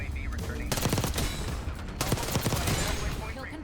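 Gunfight in the video game Black Ops 6 with a Kompakt 92 build: dense rapid automatic bursts in two long volleys, loud and close, with a brief pause between them and faint voices mixed in.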